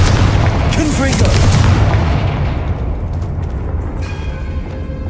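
A booming Confringo explosion spell in a wizarding video game bursts loud and close, its rumbling blast decaying over several seconds into a fading crackle.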